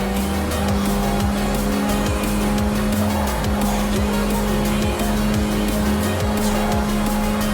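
Racing cars and hypercars from Forza Horizon 4 roar continuously at high volume, engines droning steadily while repeated tire squeals and skids cut through in quick bursts, with no voices.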